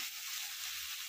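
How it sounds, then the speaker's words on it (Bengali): Boiled chowmein noodles drop into a hot oiled pan, giving a steady, bright hiss of frying that holds evenly through the short moment, with no talking. "এবারে সেদ্ধ করা চাউমিনটা এর মধ্যে দিয়ে দিলাম।"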